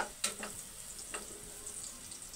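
Garlic and onions sautéing in a pot as the base for Filipino chicken tinola, a soft steady sizzle with a few sharp spatula scrapes and stirs, close by with no talking.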